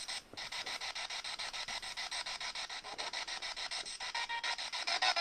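A ghost box radio sweeps stations at a slowed 150 millisecond rate, producing a steady, evenly pulsed scratchy static chop of roughly four bursts per second, close and alone.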